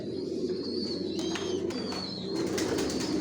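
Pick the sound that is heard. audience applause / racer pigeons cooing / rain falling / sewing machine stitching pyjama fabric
racer pigeons cooing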